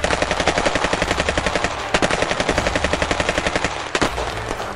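Rapid automatic gunfire used as a sound effect in a Tagalog horror story narration, a loud, continuous stream of closely spaced shots with a couple of heavier bursts standing out, no talking.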